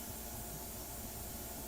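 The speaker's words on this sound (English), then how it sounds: "I'm going to go ahead and spray some air on here" An airbrush blows a steady, even hiss of air over a painting worked in airbrush and India ink, continuous and close without any break.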